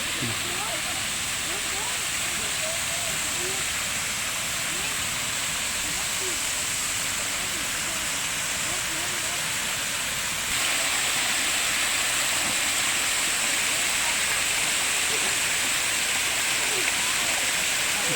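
A waterfall in Phra Na Dun park roars loudly and steadily throughout, a close, continuous rush of falling water.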